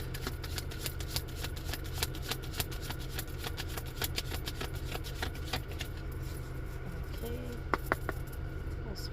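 Tarot cards riffle and shuffle from a deck in a steady run of crisp flicks up close, over a low hum, then taper off near the end with a few soft card taps.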